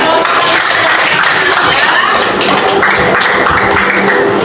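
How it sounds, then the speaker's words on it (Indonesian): A crowd claps continuously and fairly loudly, a dense patter of many hands with voices mixed in. "kita tepuk tangan lagi"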